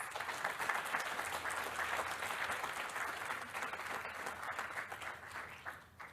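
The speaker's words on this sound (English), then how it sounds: "Please clap it up for our sponsors" An audience at a township state-of-the-town address claps for the sponsors, a full, sustained round of applause that tapers off toward the end.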